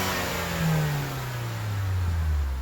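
A Range Rover Evoque turbo engine with an open air intake, running after an exhaust manifold replacement, revs up and falls in a steady rising-and-falling engine note, loud and close with an airy intake whoosh and no talking.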